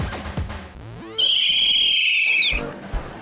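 A whistle is blown once, a loud, piercing sustained shrill tone lasting about a second and a half, following brief low voices and movement noise.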